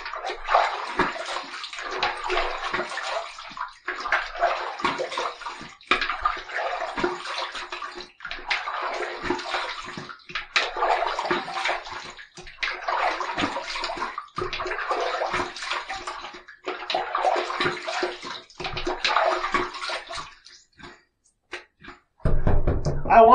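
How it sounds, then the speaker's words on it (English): Tap water running in bursts at a bathroom sink while shave soap is rinsed off the face after shaving, with a steady close splashing rush repeatedly paused by short gaps and hand splashes, no speech. "I wanted to do a lot of rinsing because I wanted to get as much soap off as possible"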